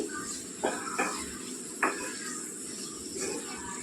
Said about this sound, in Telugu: మధ్యలో మధ్యలో కలుపుకుంటూ ఉండాలండి. చూడండి, కొద్దిగా మగ్గినాయండి. ఇలా కలుపుకుంటూ ఉండాలండి.